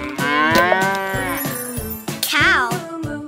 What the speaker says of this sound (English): I'm a cow. I go moo